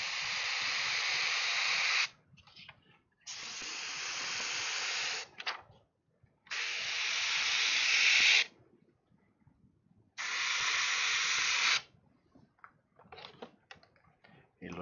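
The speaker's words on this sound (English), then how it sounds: "Y la estoy moviendo mientras echándole spray." An airbrush sprays paint through a perforated stencil onto an anime-themed shirt, giving four long, even bursts of hissing air, each lasting a couple of seconds and separated by short pauses with faint handling noise.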